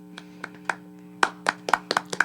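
Hands clapping nearby in a radio studio: a few scattered, sharp claps that quicken into a short burst of about eight, fairly close and moderately loud, with no speech.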